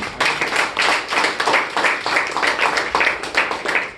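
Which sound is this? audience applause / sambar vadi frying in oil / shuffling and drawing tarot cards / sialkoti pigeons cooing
audience applause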